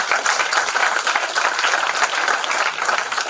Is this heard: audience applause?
yes